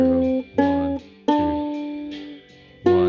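A ukulele picks blues scale notes one at a time, each plucked note ringing briefly before the next, alone and close.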